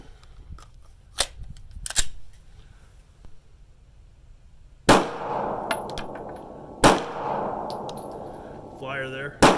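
An H&K VP9 pistol is fired at a shooting range, with a few sharp, loud shots ringing out at irregular intervals, each leaving a short echoing tail, and fainter clicks and handling noises in between.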